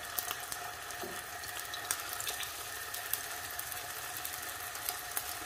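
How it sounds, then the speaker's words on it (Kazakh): Liver pieces dropped one by one into hot oil fry with a steady, dense crackling sizzle and scattered pops, loud and close with no voices. "қызып тұрған майдың үстіне бауырды біртіндеп салып шығамыз"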